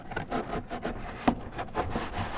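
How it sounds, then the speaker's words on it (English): A glued trunk liner on a Victory Vision motorcycle is pressed and smoothed by hand, making repeated close rubbing and scraping strokes in a steady back-and-forth rhythm. "Make sure you get it all smoothed and pressed in place."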